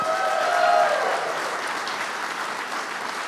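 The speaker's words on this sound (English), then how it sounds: "let's give her one more round of applause" Audience applause fills an awards ceremony hall for an honoree accepted on her behalf, a steady crowd clapping that swells early and then holds at an even level to the end, with no talk over it.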